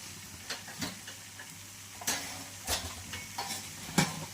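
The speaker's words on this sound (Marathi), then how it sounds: "इथं बघू शकता तुम्ही अतिशय छान असं आपली कारला फ्राय होत आहे" Bitter gourd (karela) slices frying on a tawa, with a low steady sizzle broken by several sharp scraping and stirring clicks from the pan, close and fairly quiet.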